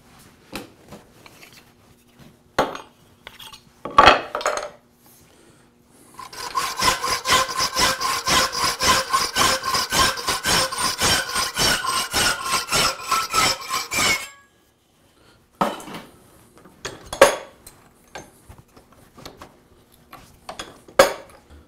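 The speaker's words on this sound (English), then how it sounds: "I'm going to hacksaw it parallel to the other side of the tang." A hacksaw cuts through a steel blank for a moulding iron blade in a steady run of rapid back-and-forth strokes lasting about eight seconds, with scattered clanks and knocks of handling before and after.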